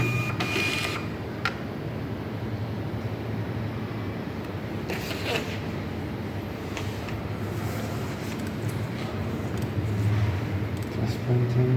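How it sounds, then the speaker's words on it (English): A printer runs a test print, a steady mechanical whir and rattle with brief clicks near the start and middle, while a voice talks briefly over it. "Test printing, okay."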